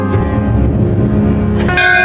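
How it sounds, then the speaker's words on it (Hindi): A temple bell rings with a dense, sustained metallic tone, loud and continuous throughout, with a fresh bright strike near the end layering over the lingering resonance. "जब फिर से मंदिर की घंटी की आवाज उसे सुनाई देती है"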